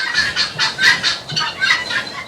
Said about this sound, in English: the guineas are loud.